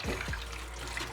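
Water running from a tap while fish is washed in a kitchen, a steady close trickle and splash lasting about a second.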